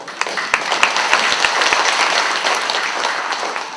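A crowd claps steadily for a few seconds, a dense patter of applause with a few sharper individual claps.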